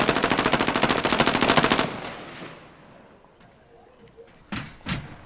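Machine gun fire in a video game, a rapid, loud burst of repeated shots for about two seconds, then a fading tail and two sharper knocks near the end, no talk.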